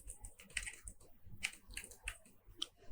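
Quick bursts of typing on a computer keyboard while writing Flask code for a mail app, several crisp close keystrokes in an uneven rhythm, with no speech.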